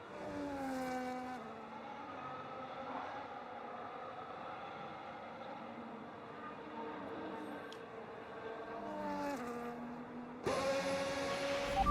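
A V12 racing engine in a sim racing game whines steadily at high revs, with repeated gear-shift pitch drops and a louder burst at the end, heard at a moderate level.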